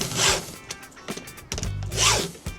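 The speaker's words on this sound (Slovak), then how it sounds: "zoberieme pilník a ideme na to. Použijem mierny prítlak" A round file drawn across the teeth of a chainsaw chain during sharpening, two long rasping strokes with lighter scrapes between them, close and fairly loud with no talk.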